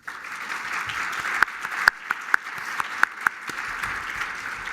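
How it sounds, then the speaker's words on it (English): A banquet audience gives a modest round of applause for sponsors and students, moderately quiet clapping with a few sharp, louder claps standing out near the listener. "please join me in a round of applause to thank the sponsors and welcome the students"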